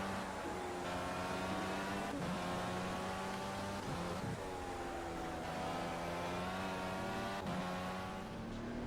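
An Indycar driving through a section of the Laguna Seca circuit, its engine loud and steady throughout, with its pitch sweeping down and back up through several gear changes and shifts in throttle. There is no talk.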